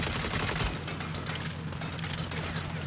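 Sustained turret gunfire in Saints Row, a dense, continuous rattle of rapid shots with heavy low thumps, loud and close, running without pause.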